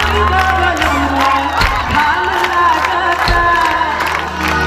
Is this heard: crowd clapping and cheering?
yes